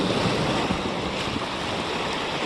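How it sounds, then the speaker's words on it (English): Sea waves surge against rocks along the shore of Ulleung Island in Korea's East Sea, a loud, continuous wash mixed with wind buffeting the microphone. "you can imagine how hard the wave is gonna hit against the rock"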